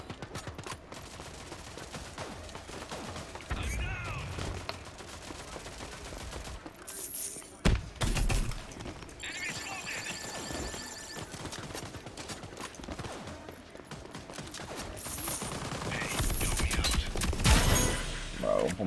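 Gunfire in the video game Rogue Company, rapid bursts and single shots loud and close amid chaotic game noise, with talk over it.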